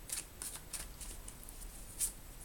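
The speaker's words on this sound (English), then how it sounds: "A card flipped up as I was shuffling" Tarot cards riffled and shuffled by hand, a quick series of soft papery flutters and snaps with one sharper burst near the end, close and quiet with no talking.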